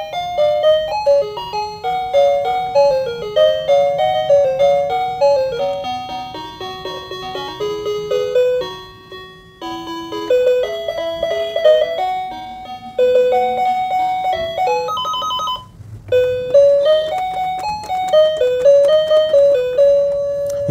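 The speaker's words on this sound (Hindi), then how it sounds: "इसमें अलग अलग म्यूजिक्स हैं जो इसमें अवेलेबल हैं जो पूरी पूरी बज रही हैं।" A toy rabbit musical piano with flashing lights and animal sounds plays a built-in tune, a bright electronic beeping melody over a soft steady backing, continuous and close with brief gaps between phrases and no talking.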